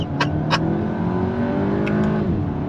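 A 2022 VW GTI engine holds a steady, strong drone under acceleration, with a few faint clicks and taps over it.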